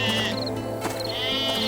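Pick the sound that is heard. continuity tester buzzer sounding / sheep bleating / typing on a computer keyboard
sheep bleating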